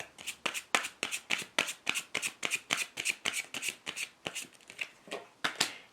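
Tarot cards shuffled by hand close up, a fast, regular run of crisp riffling slaps, about four per second, continuing steadily without any talk.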